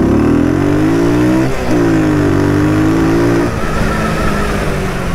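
Daytona DY125RS 125cc motorcycle engine, about 8 horsepower, revving up in first gear, a loud close buzzing drone that rises in pitch, dips briefly and climbs again, with no talking.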